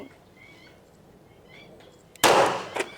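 Pistol gunshot at a shooting range: one sharp, loud blast following a quiet stretch, with a brief ringing tail and a smaller echo just after.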